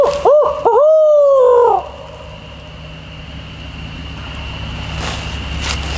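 A voice imitates an owl hoot, a few quick wavering tones rising and falling, loud and close, followed by quiet outdoor ambience.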